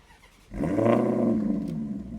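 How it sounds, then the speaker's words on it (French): A car engine cranks and fires after a quiet pause, then runs with a deep, loud, growling idle close by for the rest of the moment, with no talk. "Je te laisse démarrer, mon Calvin, pour qu'on entende le doux son"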